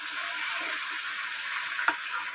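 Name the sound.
fish frying in a pan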